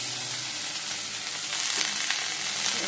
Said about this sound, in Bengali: ম্যাগি চাউমিন করছি। গাজর, বিনস, ডিম দিয়ে ভাজা ভাজা করে নিয়েছি।